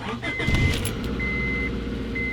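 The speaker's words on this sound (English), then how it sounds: "Start the engine." A car engine cranks and catches after a jump start from a portable battery pack, settling into a steady idle with short tonal whines above it, close and fairly loud.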